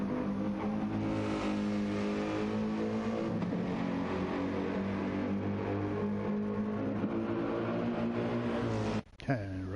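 Racing cars in a racing video game, GT Sport, roll off the start together, engines droning and revving in a dense sustained roar that cuts out abruptly near the end, with a voice talking underneath.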